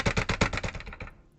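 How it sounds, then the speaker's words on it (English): A computer keyboard being spammed produces a fast, loud flurry of key clacks close by that thins out and stops within about a second. "That was me just spamming my keyboard"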